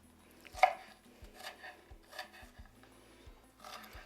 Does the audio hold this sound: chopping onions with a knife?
yes